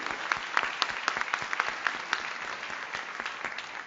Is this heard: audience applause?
yes